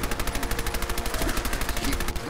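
Rapid automatic gunfire from Fallout 4 combat hammers out in a steady, fast rhythm of close, loud shots that run for a couple of seconds without pause.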